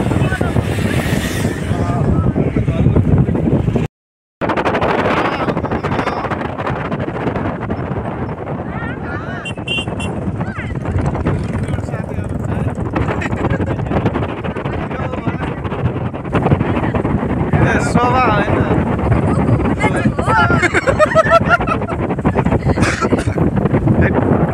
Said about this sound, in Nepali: पुरा हावा चलिरहेछ यार